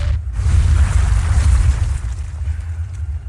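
Heavy explosions from Basilisk artillery shells in the video game Dawn of War, a loud sustained rumbling blast with deep low-end roar that slowly fades.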